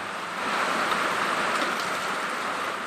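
Heavy rain pours steadily outdoors while people bathe in it, a constant dense hiss of drops on surfaces at even loudness throughout.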